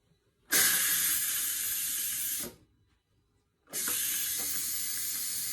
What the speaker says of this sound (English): I want to let the steam out.